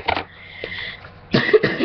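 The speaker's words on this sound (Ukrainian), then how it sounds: "вибачте, що я кашлюю, я прихворів" Two short bursts of coughing, one at the start and a harsher double cough near the end, close to the listener with a quiet gap between.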